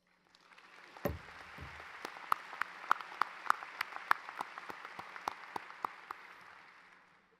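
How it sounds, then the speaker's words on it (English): Scattered applause from an audience at the Purdue University spring commencement, individual claps standing out sharply over a soft wash of clapping, with a thump near the start; fairly quiet and distant. "You are allowed to applaud, by the way. Please keep going."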